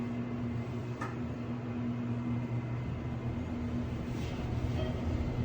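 A fast ThyssenKrupp Synergy traction elevator in an office building in Flushing, New York, runs with a steady low hum and rumble from inside the car, with faint rattles and no talking.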